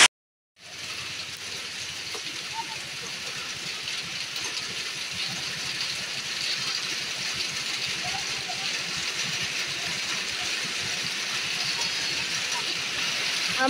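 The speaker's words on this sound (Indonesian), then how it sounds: "Duh, tambah deras hujannya" Heavy rain pouring steadily during a trip back from a garden plot, a dense continuous roar that starts abruptly and holds at an even level throughout, with people talking underneath.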